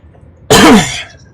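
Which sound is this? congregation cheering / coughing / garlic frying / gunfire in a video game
coughing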